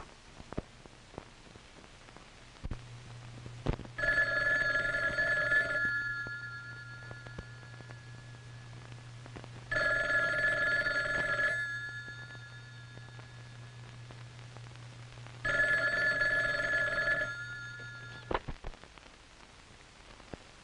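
A telephone rings in a 1957 film, three long electronic rings spaced several seconds apart, clear and moderately loud over a quiet background.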